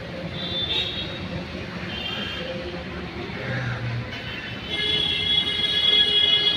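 An underground metro train runs through a station near Chhatrapati Shivaji Maharaj Terminus in Mumbai. A steady rolling rumble carries high wheel squeals, growing louder toward the end.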